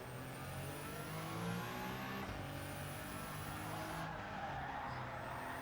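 Car engine with a stock exhaust in a racing video game, a steady, fairly quiet drone with rising and falling pitch as it revs, running continuously with no speech over it.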